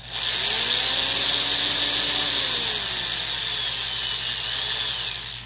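A Harbor Freight Performance Tool 3/8-inch right angle drill, rated 1500 RPM at 3.2 amps, runs steadily unloaded, giving a loud, even motor whine with a faint gear hum underneath that holds for about five seconds, with no speech.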